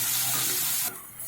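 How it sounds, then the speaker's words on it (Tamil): Chili, coriander and turmeric powders sizzle steadily in hot oil while being stirred in a pan for vegetable kurma. The loud frying hiss is close and constant, then drops abruptly near the end, with no talk. "இது எல்லாத்தையுமே நல்லா கலந்து விட்டுக்கோங்க."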